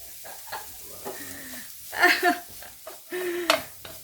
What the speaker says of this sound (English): when I put the onion, I just mix everything